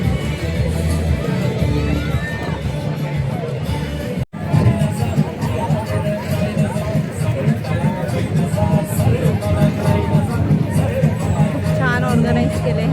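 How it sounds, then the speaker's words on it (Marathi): Crowd of people at a Canada Day park celebration with children's play areas, a dense continuous babble of many voices close and far, with a person talking over it. "बघू शकता आज केवढी गर्दी आहे."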